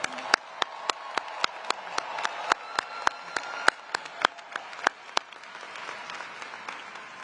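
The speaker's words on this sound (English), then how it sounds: "Please give them a warm round of applause" Sparse, sharp hand claps at a Howard University commencement for the graduating class, evenly spaced single claps over a faint crowd hum that thin out and fade after about five seconds.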